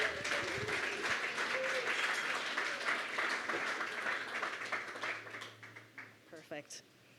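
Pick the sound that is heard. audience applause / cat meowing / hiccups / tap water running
audience applause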